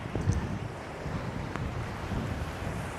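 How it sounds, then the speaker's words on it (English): Ocean water drawing back off the rocks at a Point Judith beach as the tide recedes, a steady low wash and rumble with light wind buffeting, faint and continuous with no voices. "I want you to hear that sound the water makes when the tide is pulling away from those rocks on the beach there"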